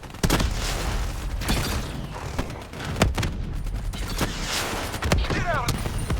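Rapid gunfire bursts and heavy booms from Call of Duty: Black Ops III combat, loud and close, with sharp repeated shots scattered throughout a dense battle din.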